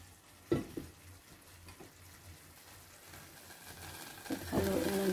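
Vegetables sizzle in a hot pan while being stirred, a soft continuous frying hiss broken by occasional utensil scrapes and clinks, growing louder and busier toward the end.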